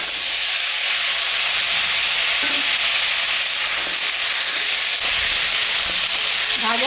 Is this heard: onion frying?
yes